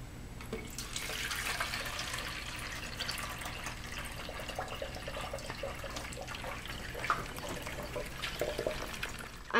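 Water runs through a tube with a small hole, a continuous soft rushing and trickling flow that holds steady and close, with no voices.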